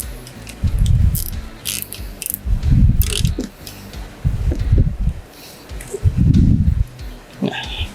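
Nylon cable ties, white 400 mm MOLLAR ties, being threaded and zipped through their ratchet locks during a load test lifting a water gallon, giving bursts of close, loud ratcheting clicks in several separate pulls.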